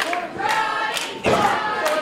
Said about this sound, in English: The crowd is firmly behind the Johnnies.